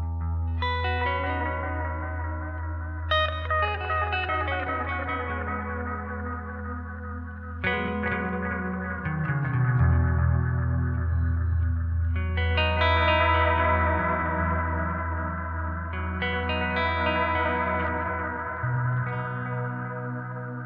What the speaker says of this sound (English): Let's just hear it through the micro pitch really quick.